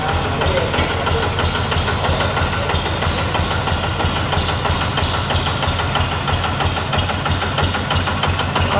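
A Thai E-taen farm truck, a custom Chang Jumbo build with big wheels and heavy suspension, its engine running in a steady, dense, knocking rumble close up and loud throughout, with no pauses and no voices.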